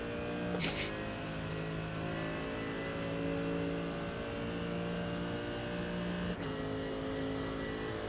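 An LMDH/GTP prototype race car engine in a sim racing game drones steadily at high revs, its tone shifting slightly through a chicane, with brief clicks and no talk over it.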